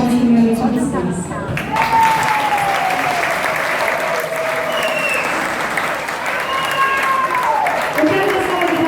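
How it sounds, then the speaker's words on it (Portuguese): A crowd at a charity show applauds steadily and loudly throughout, with some cheering, while a voice speaks over the clapping. "uma salva de palmas primeiramente a vocês"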